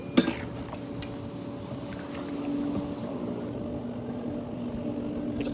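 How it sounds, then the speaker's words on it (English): A pool pump rated at 3,100 gallons per hour runs through a high-capacity sand filter, giving a steady low hum and faint whooshing throughout, with a couple of sharp clicks at the start. "So I'm just going to run it through the filter and turn the pump on."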